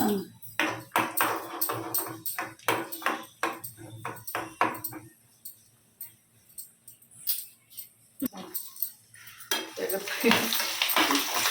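Cumin seeds and cashews stirred into ghee in a cooking pan for foxtail millet pongal, a spoon scraping and clinking against the metal in quick repeated strokes, with a soft sizzle underneath and a voice talking at times.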